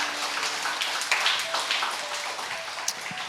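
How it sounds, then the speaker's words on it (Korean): Church congregation at a Sunday worship service clapping for new members receiving certificates, a steady, moderately distant patter of many hands that continues without a break. "네 분에게 박수 한번 크게 쳐주시기 바랍니다."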